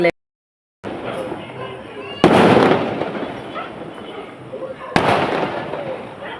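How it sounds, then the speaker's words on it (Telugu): Firecrackers burst outdoors in two sharp, loud bangs a few seconds apart, each trailing off into a crackling rumble over a steady background hiss. "ఇక్కడైతే క్రాకర్స్ కాల్చుతున్నారు"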